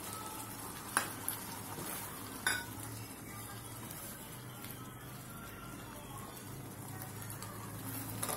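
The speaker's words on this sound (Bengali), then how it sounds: "আমি এখন এর মধ্যে টমেটো কিউব করে কাটাটা দিয়ে দেব।" Cubed tomatoes go into a pan of prawns cooking for prawn dopeyaja, with a quiet, steady sizzle and a couple of sharp utensil clinks near the start.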